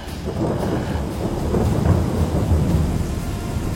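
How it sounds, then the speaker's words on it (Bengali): A thunder rumble over steady rain in a Bengali ghost audio story, loud and rolling throughout with a rain wash underneath and no voices. "কড়কড় শব্দে বাজ পড়ল আবার"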